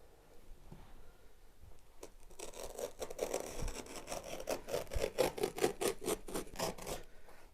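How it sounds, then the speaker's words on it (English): A sharp knife cuts through carpet on a staircase, starting with a few faint scrapes and building into a quick, rhythmic rasping of blade strokes against the fibres, close and alone. "making sure it's a knife with a sharp blade, and I'm going to cut underneath this edge"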